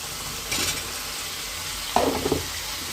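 Washed masoor dal is stirred in a frying pan over a constant low sizzle, with two brief scraping stirs close by and no speech.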